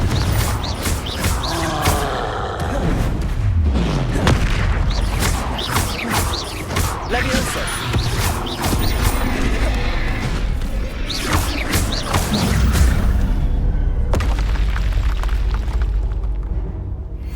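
Repeated Confringo fire spell explosions in Hogwarts Legacy, a loud run of booming blasts and crashing impacts layered with rumbling effects, coming in rapid succession across the whole stretch.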